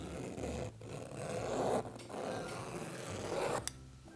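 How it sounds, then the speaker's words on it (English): Gingher fabric scissors slicing through cloth in a long, smooth rasping cut, close up, ending with a sharp snip. "these Gingher scissors are insane. They changed my life. Watch this. I just have to clip in once"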